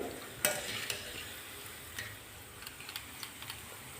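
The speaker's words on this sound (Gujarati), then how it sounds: "આ ભજીયા છે એને આપણે સ્લો ફ્લેમ પર જ તળવાના છે" Cabbage bhajiya fritters frying in oil over a slow flame, a soft steady sizzle with a few sharp clicks and taps near the start and scattered light ticks toward the end, fairly quiet and close.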